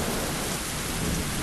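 A loud, furious lightning storm: heavy rain roars steadily while thunder rumbles low underneath, a dense, unbroken wash of sound with no voices.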